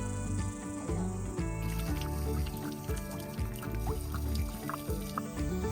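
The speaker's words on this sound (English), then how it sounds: "this water trough is filling up" Water runs steadily into a horse water trough, a continuous faint pouring and trickling sound that carries on alone through the clip.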